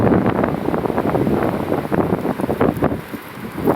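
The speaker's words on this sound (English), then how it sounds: "Windy." Gusty wind buffets the microphone in a steady low rumble, loud and continuous with surges throughout.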